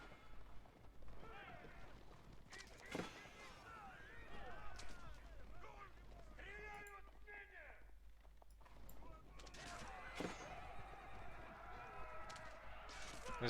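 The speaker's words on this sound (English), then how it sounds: "This small group of horse archers is not gonna accomplish that much." Horses of horse archers whinny and neigh amid battle in the Age of Empires IV game, several overlapping calls with hoof clatter, impacts and gunfire-like bursts, fairly faint under a low hum and busy game noise.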